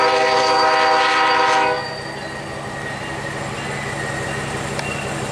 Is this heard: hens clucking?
no